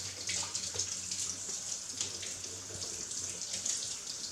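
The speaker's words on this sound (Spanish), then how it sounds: "Ponemos el grupo infusor bajo el grifo y lo aclaramos bien." Tap water runs steadily as the brew group of a Delonghi Magnifica S super-automatic espresso machine is rinsed under the faucet, a continuous close splashing hiss with no talk.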